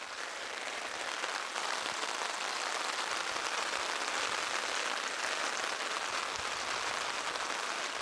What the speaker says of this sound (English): This is about as hard as it possibly could rain.